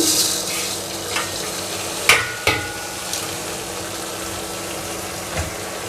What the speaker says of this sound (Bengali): আমি পরিষ্কার করে ধুয়ে সেকে নিয়েছি দিয়ে দিচ্ছি চালগুলো